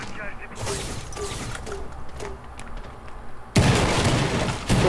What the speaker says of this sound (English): I hear the bullets, but I don't see them.